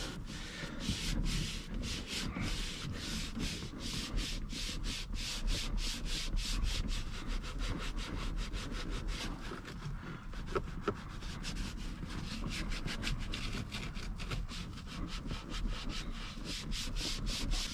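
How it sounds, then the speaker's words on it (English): A car steering wheel is scrubbed with quick, rhythmic back-and-forth rubbing strokes, a continuous close brushy rasp lasting throughout at moderate volume with no voices. "begin wiping, or begin scrubbing the steering wheel"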